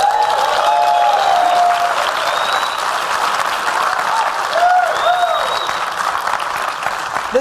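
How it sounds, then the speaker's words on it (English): Audience applause and a round of clapping at a Venus Project event honouring Jacque Fresco's birthday: dense, steady crowd clapping held for the whole stretch, with a few faint whistles and voices rising through it. "I think we need to give him one more round of applause for that"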